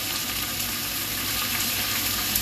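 Rice and meat frying in a hot pan while a spoon keeps stirring and scraping, producing a steady, close, dense sizzle with no pauses and no voices over it.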